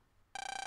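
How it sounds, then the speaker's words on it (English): An autophone in the video game Mega Man Battle Network 6 starts ringing abruptly after near silence, a bright electronic pulsing ring that trills rapidly and stays loud to the end. "Phone call. It's your autophone, Lan."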